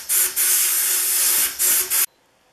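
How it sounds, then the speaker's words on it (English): A sandblaster prepares the japanned surfaces of a Stanley No. 62 low angle block plane for a new finish: a loud, close, steady blasting hiss that briefly dips twice before cutting off abruptly. "it's on to the sandblaster to prep the Japan surfaces for a new finish"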